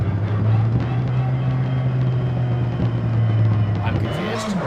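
A Nissan S18 engine in CarX Drift Racing drones steadily with the clutch in, its pitch slowly sinking as it revs down, then rising briefly at the end, with a person talking over it.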